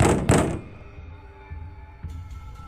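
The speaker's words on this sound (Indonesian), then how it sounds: "Ketukan itu terdengar semakin keras." Two heavy knocks land on a front door in quick succession, followed by a few fainter thuds in a quiet room.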